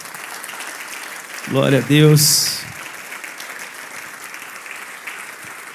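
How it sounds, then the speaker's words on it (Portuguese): A church congregation claps in a short, dense burst of applause lasting about a second, while a voice calls out just before and during it, then the room settles back to quiet. "Dê um aplauso ao Senhor Jesus."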